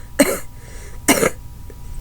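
Two harsh, wet coughs about a second apart, close and loud, with quiet pauses between.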